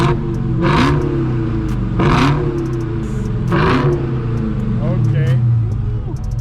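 Exhaust of a track-tuned performance car, an Audi RS5, Dodge Hellcat or Scat Pack, revving loudly in three rising bursts over a steady idle rumble, with people talking nearby.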